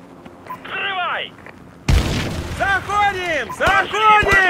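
Explosion in Call of Duty: Modern Warfare during a breaching assault at a building: a sudden loud broadband blast partway through, with shouted voices and radio-style commands before and after it.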